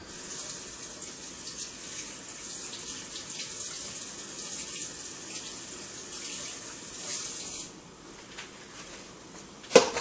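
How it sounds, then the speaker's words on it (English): Tap water runs steadily from a faucet while a measuring cup is rinsed, a continuous soft splashing hiss close by that ends with a brief clatter. "I had to rinse my measuring cup off"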